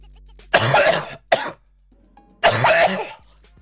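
A man coughs and clears his throat in a quiet room, three harsh chesty bursts spaced about a second apart, close and loud.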